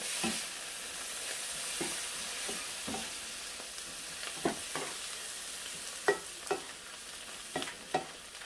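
Thai fried mussel pancake sizzling in a pan, with a steady hiss of frying oil punctuated by several spatula scrapes and taps, close and clear with no voices.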